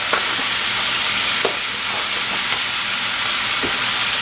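Seasoned ground beef for tacos browns in a pan, giving a steady broadband sizzle and hiss with a few soft scrapes of stirring. The sizzle is close and continuous, with no talking.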